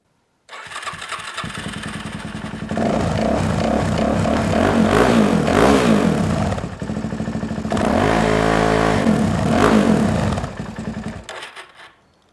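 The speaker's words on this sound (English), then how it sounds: "when I go to start this bike now, it will start no problem at all" A motorcycle with an intermittent electrical fault cranks and fires up, its engine running steadily and loudly, then revving up in two sustained bursts before dropping away, close by with no talking.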